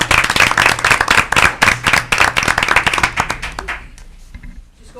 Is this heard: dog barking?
no